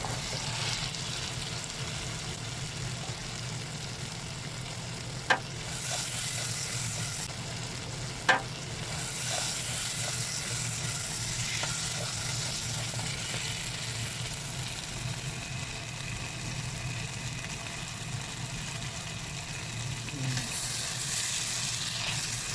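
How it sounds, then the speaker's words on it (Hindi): Potatoes roast and fry in a masala for aloo baingan, a steady sizzle continuing throughout with a couple of sharp stirring clinks, no voices. "आलू को रोस्ट करना है, भूनना है इसमें मसाले में"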